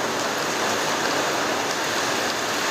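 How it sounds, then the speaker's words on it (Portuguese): Steady heavy rain pouring down during an indoor religious gathering, a dense continuous hiss filling the space at constant loudness with no pauses, no voices over it. "tá chovendo"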